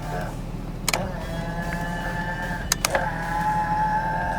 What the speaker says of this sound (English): If you press this button, we have power folding mirrors.